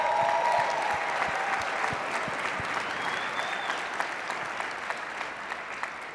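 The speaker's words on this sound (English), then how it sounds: "Now you're supposed to clap right there because that's admirable." A crowd bursts into sustained applause at a talk, the dense clapping loud at first and slowly easing off, with a faint voice or whistle briefly heard over it.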